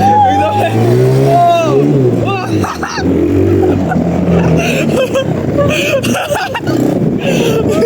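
A car engine revving and accelerating at night, loud and close throughout, with pitch rising and falling as it pulls away, while people talk over it.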